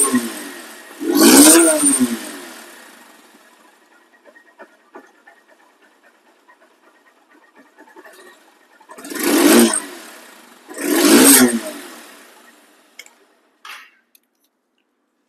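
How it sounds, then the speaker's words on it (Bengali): A second-hand Honda CB Hornet double-disc motorcycle engine is blipped three times, each rev swelling and fading over about two seconds, with near silence before, between and after the bursts. "এখন সাউন্ড কোয়ালিটি শোনাবো। দেখেন সাউন্ড কাকে বলা হয়।"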